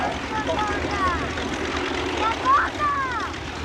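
B-17 bomber 'Sally B' passing overhead at the Dunsfold airshow, its piston propeller engines giving a steady droning roar that swells slightly midway, with someone talking over it throughout.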